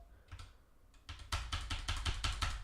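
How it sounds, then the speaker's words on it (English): Fingers type on a malfunctioning computer keyboard during live futures trading, a few scattered key taps followed by a rapid run of close, clacking keystrokes with no speech. "my keyboard's just not wanting to work"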